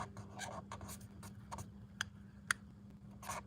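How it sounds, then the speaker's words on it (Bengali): Hand writing Arabic words with a pen on paper, soft scratchy strokes in short irregular bursts with a couple of sharp taps, close and quiet, no speech. "খুব চমৎকারভাবে লিখে দিচ্ছি"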